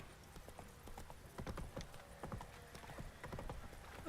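Roach the horse trots in The Witcher 3, with quick, regular hoof clip-clops on the ground over a quiet game ambience. The hoofbeats are moderately close and fairly faint, and there is no speech.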